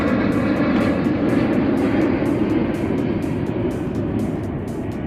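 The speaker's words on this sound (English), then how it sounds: "let's wait for the airplane to go over" An airplane flies overhead, giving a loud, steady broadband roar that holds for several seconds and fades slightly toward the end, with no talking.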